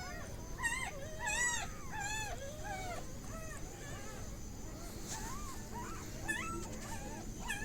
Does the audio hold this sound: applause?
no